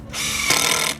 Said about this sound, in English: Drilling in the hangers.